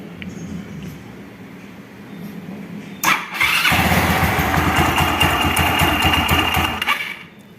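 A Yamaha Xeon scooter, just fitted with a new pulley bearing, is quiet at first, then its engine cranks and catches about halfway through and settles into a loud, steady idle before it fades at the end.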